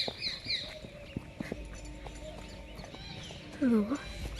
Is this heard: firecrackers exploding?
no